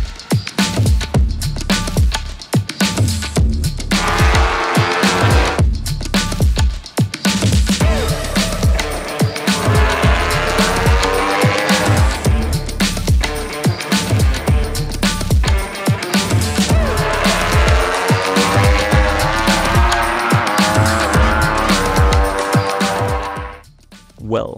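A MotoGP racing motorcycle screams past at speed, its engine howling loud and sustained for over twenty seconds, with the pitch rising and falling through gear changes.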